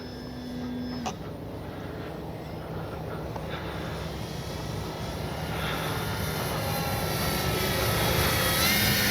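A Dynam Beaver V2 radio-controlled plane's electric motor drones steadily overhead in flight, a thin whine that swells gradually louder over several seconds against open outdoor air.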